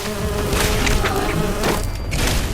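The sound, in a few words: bees buzzing in Fallout 76 video game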